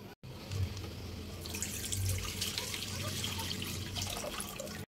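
Water pours into a heated pan before milk is added for homemade rasgulla, a steady broad splashing stream running for most of the stretch at moderate loudness with no talk.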